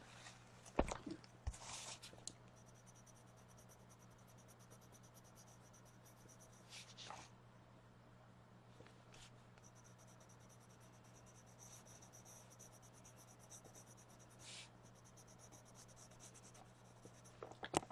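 Soft, scratchy strokes of a lavender colored pencil coloring on paper, quiet and close, with a few sharper scrapes and brief pauses between bursts of shading.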